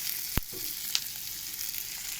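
Egg bhujia and Maggi masala stirred and frying in a pan, a faint steady sizzle broken by two sharp spatula knocks against the pan; no voices.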